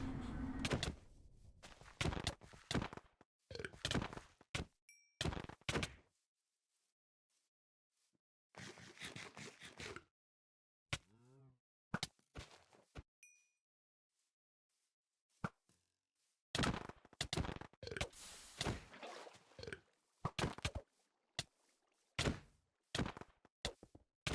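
Combat in the Hoplite battle royale video game with bow shots, heard as irregular clusters of sharp thuds, clicks and scrapes broken by several silent gaps.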